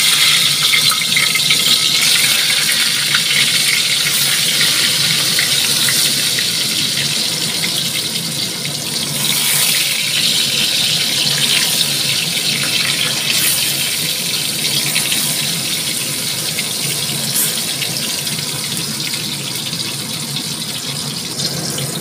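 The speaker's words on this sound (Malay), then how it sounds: "Goreng tempe." Tempeh sizzles loudly in hot oil, a steady crackling hiss that carries on for a long stretch with no one talking.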